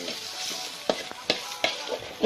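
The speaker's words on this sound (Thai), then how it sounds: "ผัดเรื่อยๆ นี่" Stink beans fry with shrimp paste and fresh shrimp in a hot pan, a steady soft sizzle broken by a few scraping stir strokes, close and fairly quiet.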